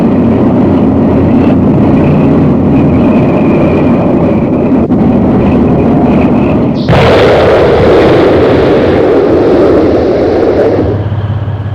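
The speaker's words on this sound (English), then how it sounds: "Grenade-launched and integral engine smoke systems contribute to the XM1's survivability by providing rapid concealment for the vehicle" Smoke grenades launch from an XM1 Abrams tank in a sudden loud broadband burst that jumps out of a steady heavy rumble, followed by a sustained hissing roar of discharge for several seconds before easing off.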